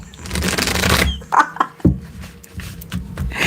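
Tarot cards being shuffled during a live reading, a dense burst of riffling followed by a few sharp snaps and shorter shuffles, close and fairly loud with no talk.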